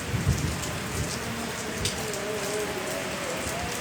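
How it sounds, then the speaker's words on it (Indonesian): Heavy rain falls steadily on a public cemetery, a dense, even hiss of drops with a few louder patters and a low rumble early on. "Wah, hujannya gede guys."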